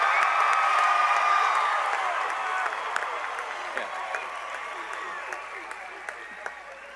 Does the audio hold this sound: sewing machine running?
no